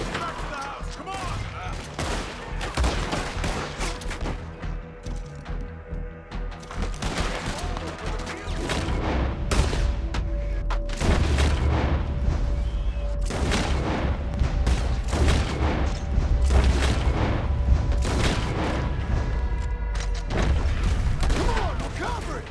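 A shootout in Red Dead Redemption 2, with dense, overlapping gunfire cracking and booming almost without pause, loud and close, over a rumbling battle background that swells in the second half.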